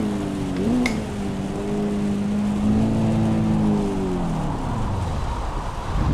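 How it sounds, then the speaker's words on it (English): Race car engine in Assetto Corsa Evo revving and dropping in pitch as the car spins out on a wet track, a steady loud drone with falling tones and tyre noise, no talk. "I'm going to induce a spin here"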